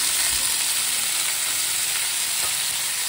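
Vegetables frying in a pan with ginger, a loud steady sizzle and crackle that holds constant throughout, close up and with no talking.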